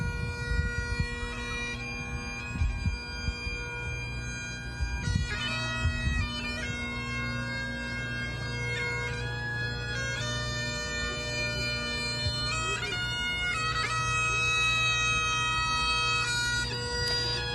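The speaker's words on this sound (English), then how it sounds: "You can hear the bagpipes playing right now" Bagpipes play a slow tune at a memorial for Las Vegas shooting victims at the Community Healing Garden, with sustained reedy notes over a steady drone, heard at moderate distance amid an evening crowd.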